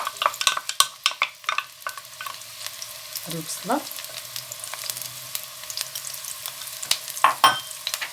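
Onion sizzles and crackles in olive oil in a pan as it is stirred, with sharp clicks and scraping of a utensil; no one speaks.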